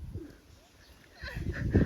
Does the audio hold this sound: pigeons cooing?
yes